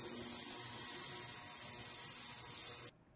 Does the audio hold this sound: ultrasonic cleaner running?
yes